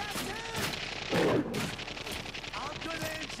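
Gunfire in the video game The Darkness: rapid bursts of shots crackling over a busy game soundtrack, with a louder burst near the middle, under a person talking.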